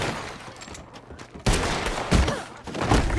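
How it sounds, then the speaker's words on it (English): Police gunfire in the Red Dead Redemption 2 video game, heard as dense rapid volleys of shots and thuds that run continuously, loud and close, with bursts intensifying partway through. "The cops are shooting people now."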